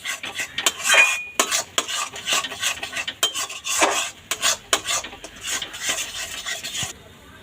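A utensil scrapes and stirs thick pea paste in a pan for kochuri filling, a steady run of gritty, rhythmic strokes up close that stops near the end.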